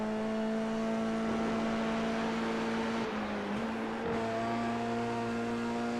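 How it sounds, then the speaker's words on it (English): F3 race car in a sim racing game at Brands Hatch, its engine droning loud and steady throughout with harmonic whine, a brief rev spike and dip around the middle as the rear wheels spin up. "You can hear the car spiking the rev slightly there, just about spinning up the rears."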